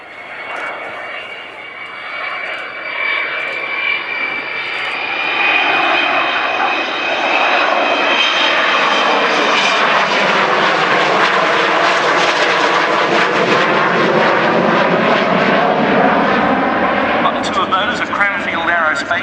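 Aircraft XH558 flying a full air display, its engine roar swelling from a distance into a loud, sustained, rumbling howl that holds steady as it passes.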